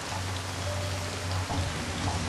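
Steady rain pours down in the Splinter Cell Pandora Tomorrow video game, a dense even hiss of drops with a low droning rumble beneath, continuous and unbroken with no speech.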